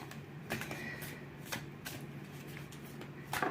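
Tarot cards shuffled by hand in a quiet room, a steady run of soft papery riffling and flicking with a few sharper snaps, close and continuous over a faint low hum.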